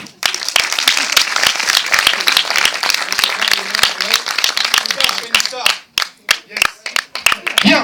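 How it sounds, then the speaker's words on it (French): Audience applause at a 2014 stage show preview in Montluçon, loud continuous clapping from a crowd with cheers, dipping briefly before scattered sharp claps resume, a voice speaking over it. "On t'applaudit extrêmement fort, Thomas, s'il te plaît"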